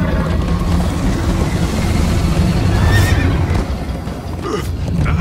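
A horse whinnies in Minecraft: Story Mode amid galloping hoofbeats and a steady rumbling background, loud and close, with no talking.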